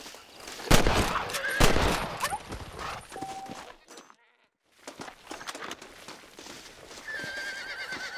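In Red Dead Redemption, a horse whinnies in sharp bursts over clip-clopping hooves, with loud game effects, a brief silent gap midway, then hoofbeats resuming.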